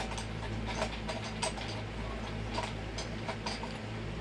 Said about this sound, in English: I'm going to run this one through the embosser.